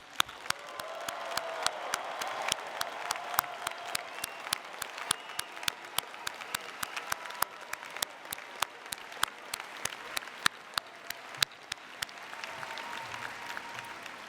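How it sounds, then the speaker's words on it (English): A commencement crowd applauding new graduates at the University of Maryland's spring ceremony: sparse, sharp individual claps ring out over a soft, diffuse murmur of clapping in a large reverberant space, thinning out toward the end. "Please join me in another big round of applause for our new graduates."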